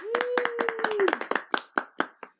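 A few podcast studio hosts clap for a brief burst, close and crisp. The quick claps thin out into a handful of slower separate ones, and a short rising vocal whoop is heard at the start.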